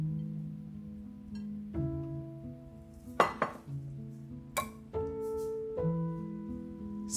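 Ceramic plates and utensils clink and clatter in a few sharp knocks over steady background music as ginger pork and shredded cabbage are plated, close by, with no talking.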